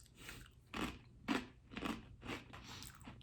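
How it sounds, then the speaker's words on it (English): Spicy crackers being crunched, with five loud, crisp bites and chews coming in a steady rhythm close to the mic, heard alone with no talk over them. "I do like the crunch of these crackers."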